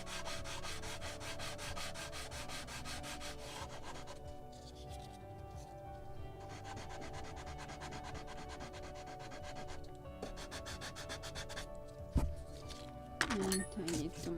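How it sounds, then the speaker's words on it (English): Sandpaper rubs back and forth along the wooden hull of a model of the 1776 gunboat Philadelphia. Continuous close scratchy strokes keep a steady rhythm, pause briefly, then resume, and a few soft knocks land near the end. "So let's sand a little with the sandpaper."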